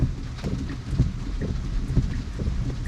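Heavy rain drums steadily on a Tesla's roof with a low rumbling wash underneath and scattered louder drops.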